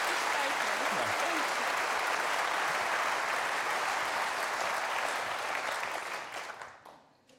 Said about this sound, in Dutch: daarvoor het applaus